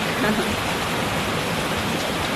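Steady rain falls outside, a dense, even hiss of drops with no breaks, fairly loud and close.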